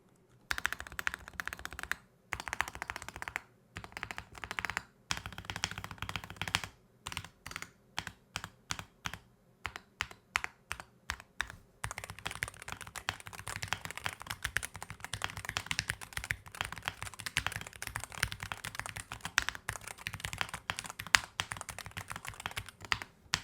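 Typing on a SteelSeries Apex Pro TKL Gen 3 keyboard after lubing its stabilizer: bursts of close, crisp key presses with brief pauses, then a longer stretch of fast continuous typing.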